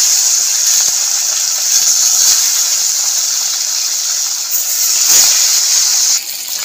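Puti fish frying in hot mustard oil in a kadai, giving a loud, steady bright sizzle and hiss throughout, with faint crackles and a brief stir of the pan near the end.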